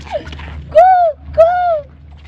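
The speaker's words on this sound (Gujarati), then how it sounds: "એ પક્ષી કરતા મારે હારી પક્ષી વધારે બોલે" Pigeons coo twice, each call a smooth drawn-out note close by, with a quiet background and a brief faint sound just before.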